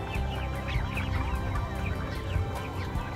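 A flock of chickens being raised on a farm clucks and calls continuously up close, with overlapping squawks and busy fowl chatter and no one speaking.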